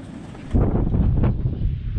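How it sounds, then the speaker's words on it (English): A sudden gust of wind, gusting around 40 miles an hour outdoors with blowing dust, buffets the microphone with a deep rumbling roar that stays strong and blustery after a quiet start. "She's windy out. 40 mile an hour gusts."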